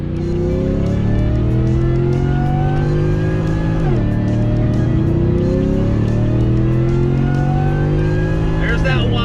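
Ford F-150 pickup with a supercharger accelerating hard: a loud rising engine roar with a whine that climbs through gear changes and dips once midway, with voices over it.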